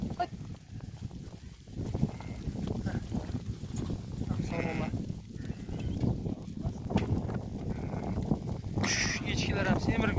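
Sheep and goats bleat here and there across a busy outdoor farm scene with lambs, occasional hoof clatter, while people talk throughout.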